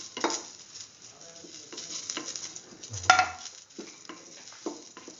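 Cumin, nigella and coriander seeds sizzle in hot oil, a faint steady crackle with occasional stirring and a soft clink of a utensil against the pan.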